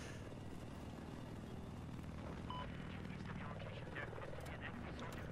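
Attack helicopter in the video game Battlefield 4: a steady, droning rotor and engine hum throughout, with scattered short battle sounds and faint, indistinct voices underneath.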